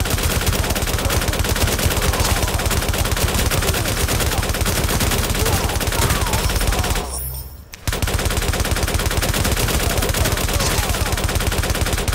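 Rapid automatic gunfire in The Division video game rattles continuously and loudly, pausing briefly midway before the relentless bursts resume.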